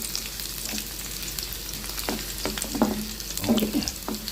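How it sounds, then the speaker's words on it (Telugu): Onions fry lightly in a little oil in the pot of an electric rice cooker, with a soft steady sizzle and a few clicks and scrapes of stirring, close and fairly quiet with no talk. "ఆనియన్స్ని మనం ఫ్రై చేసేసి"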